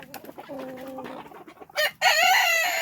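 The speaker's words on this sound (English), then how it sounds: "Oh, the chickens found the duck spot." Chickens cluck and call at a communal feeding spot in a backyard coop, a few short bird calls followed by a louder, longer squawking burst near the end.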